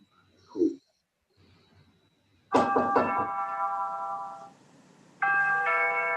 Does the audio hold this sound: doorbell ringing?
yes